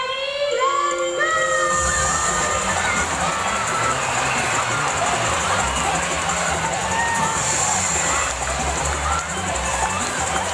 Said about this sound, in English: Corky supporters, you have to cheer even louder this time.